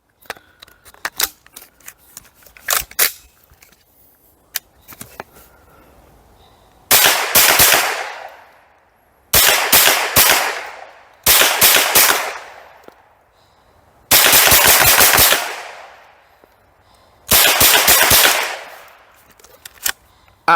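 A UK legal Heckler & Koch MP5 firing 20 rounds, unoiled and uncleaned, in rapid bursts: several loud, close, fast rattling strings of shots separated by short pauses, after a few quieter handling clicks.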